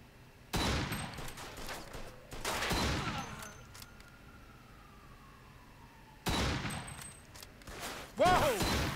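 Gunfire in the video game Mafia II comes in several loud, sharp bursts separated by short pauses, with a faint wailing tone between them and no talk.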